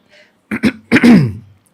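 A single throat clearing, a couple of short rough bursts followed by a longer gravelly rumble, close and loud.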